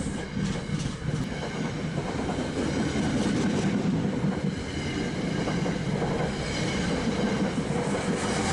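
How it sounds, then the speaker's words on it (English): An NJ Transit train rolls past close by with a continuous rumbling roar and rhythmic wheel clatter, the sound shifting as it slows down, with no voices. "we catch another NJT train. Watch how the train quickly slows down"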